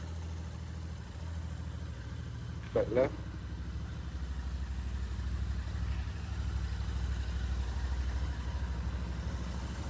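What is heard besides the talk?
motorcycle engine idling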